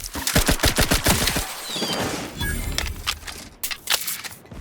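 Rapid automatic gunfire rattles in The Outer Worlds 2 at Fort Endurance, loud bursts of shots followed by scattered single cracks and impacts at close range.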